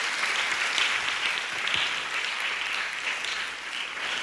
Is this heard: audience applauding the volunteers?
yes